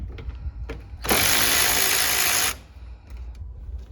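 A wrench works the battery terminals on a Nissan D21 pickup, giving one dense burst of ratcheting clicks about a second and a half long, loud and close, with quiet shop noise before and after.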